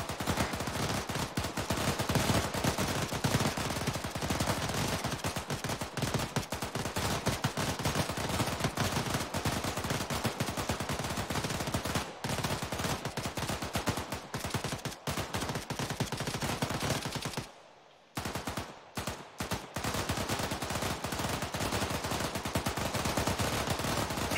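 Nonstop overlapping gunfire fills a firing range in the Arma 3 video game, with many rifles cracking loudly and close for the whole stretch. It pauses only briefly near the end before resuming, and no talk is heard.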